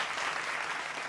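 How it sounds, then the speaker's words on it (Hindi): Studio audience at a televised Hindi debate show breaks into steady, dense clapping to welcome a spiritual guest, a short continuous burst with no voices. "जोरदार तालियों से एक बार फिर अभिनंदन"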